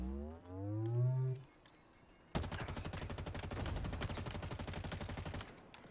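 Rapid automatic gunfire from the video game Halo, a dense continuous burst of shots lasting several seconds after a short tonal sound, fairly loud and without talk.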